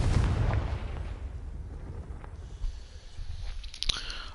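A Bombarda spell explosion in the game Hogwarts Legacy, a loud low boom at the start that rumbles and decays, followed by a few smaller bursts and crackles.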